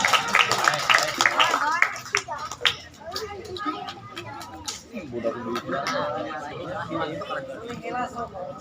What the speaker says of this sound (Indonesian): Yo tepuk tangan buat adiknya.